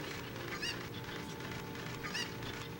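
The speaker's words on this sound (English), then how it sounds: "So I'm taking this chicken with me" Clucking from a chicken in The Legend of Zelda: Ocarina of Time, with two short squawking calls about a second and a half apart over steady game music.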